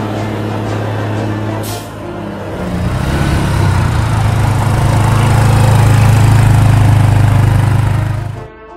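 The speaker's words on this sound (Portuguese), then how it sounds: "Usaremos o quadriciclo Motor Go." Engine of a Motor Go quad bike idling and then revving up into a steady, loud drone that holds for several seconds before cutting off abruptly.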